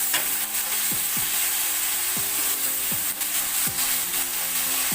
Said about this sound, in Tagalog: gisa-gisa lang tayo mga B. Ang ating bawang, sibuyas, kamatis.